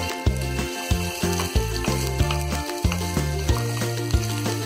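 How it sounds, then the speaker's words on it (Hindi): Chopped ginger fries in hot oil for restaurant-style chilli chicken, a continuous loud sizzle broken by regular stirring scrapes and clunks at a steady rhythm, close up and without talk. "अब हम डाल देंगे इसमें ये कटा हुआ अदरक। हल्का सा फ्राई करेंगे"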